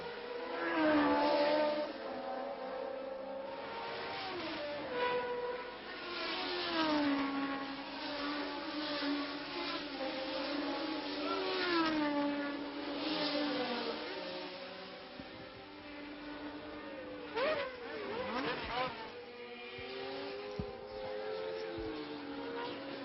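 Formula 1 cars racing at the French Grand Prix at Paul Ricard, a continuous whining engine drone that rises and falls in pitch as cars pass, heard under ongoing French commentary.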